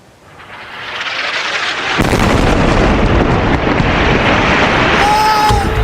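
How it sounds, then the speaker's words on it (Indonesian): A deep, roaring blast from an Israeli air strike hitting buildings in Lebanon swells and holds loud and heavy, with a sudden surge of rumbling noise partway through and a faint whistle near the end. "Sebuah rekaman video menunjukkan ledakan akibat serangan udara Israel menghantam sejumlah gedung"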